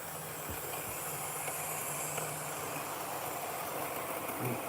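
A Hornby model train of the locomotive Tornado runs with a steady hissing, whirring drone that stays constant throughout, plus a few faint clicks and no speech.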